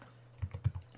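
Several quick keystrokes on a computer keyboard while code is typed, a short cluster of soft clicks standing out over quiet room hiss.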